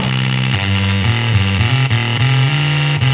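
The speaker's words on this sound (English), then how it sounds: "You definitely have some some bit crushing mixed into that fuzz sound." A fuzz distortion pedal with bit crushing mixed in turns a played guitar into a loud, buzzy, harsh tone full of gritty high-end harmonics, the pitched notes stepping and sliding across a few seconds with no talking.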